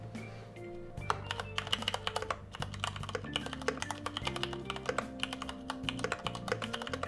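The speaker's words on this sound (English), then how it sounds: "This one's got cherry MX browns because I've got to have that tactile bump." Steady typing on a Varmilo mechanical keyboard fitted with Cherry MX Brown tactile switches, with dense, rapid keystrokes heard close up and continuously over a low background hum, with no talking.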